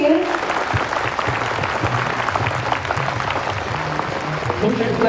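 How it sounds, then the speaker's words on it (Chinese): A dense audience breaks into sustained applause at an award ceremony, filling the hall evenly from start to finish while a voice speaks over it. "有请， 掌声有请。"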